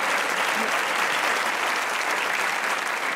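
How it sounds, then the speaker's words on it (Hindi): A studio audience at a Pakistani TV comedy talk show breaks into sustained, even applause, a loud, continuous wash of clapping from a large crowd throughout. "तालियां होनी चाहिए।"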